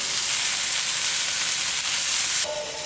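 Raw plantain slices frying in oil on a dosa griddle over a slow flame, a close, steady, loud sizzling hiss that drops off abruptly near the end.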